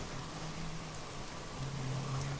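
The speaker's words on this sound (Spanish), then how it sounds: "está lloviendo" Rain in the video game 7 Days To Die gives a constant, even hiss over a low steady hum, with no talk.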